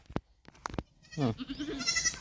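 A goat on a farm gives a wavering bleat, loud and close, preceded by a few sharp knocks and clicks with faint rustling behind.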